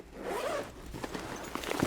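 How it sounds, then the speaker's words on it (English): A zipper on the back panel of a Push Division 01 backpack is pulled open in one short, close, crisp rasping run with small ticks at the end. "So we can open this zipper up."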